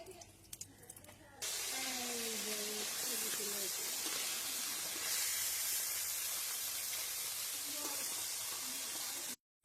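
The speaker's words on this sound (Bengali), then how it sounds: "কড়াই গরম হয়ে গেছে, এবার আমি কড়াইতে তেল দিয়ে দেবো।" Oil poured into a hot wok for a Bengali fish dish hits with a sudden loud, sustained hiss and sizzle after a quieter opening, with brief clinks over it before it cuts off abruptly.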